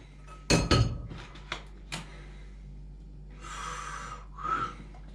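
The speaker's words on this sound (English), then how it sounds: "So you're gonna put oil in here, like so." A few sharp clinks of a metal pot, then a soft hissing pour of oil into the pot in two short stretches.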